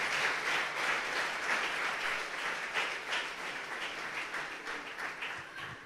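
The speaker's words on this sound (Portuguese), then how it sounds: "Você pode aplaudir o Senhor nessa manhã?" A church congregation applauds together, a dense, continuous wash of many hands clapping that stays loud and fairly even throughout, with no voices standing out.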